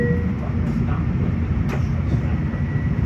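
A Flying Yankee commuter train rolls along the rails between Penn Station and Ronkonkoma, heard from inside behind the cab as a steady loud rumble with a brief clank midway and faint voices underneath.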